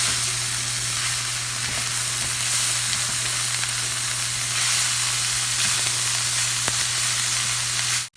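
Beef and onion mixture for a zucchini lasagna sizzles in a pan while being stirred and tossed, a steady close frying hiss with a few soft scrapes and no talking.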